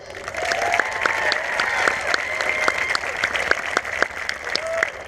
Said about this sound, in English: Yep, we can clap for her.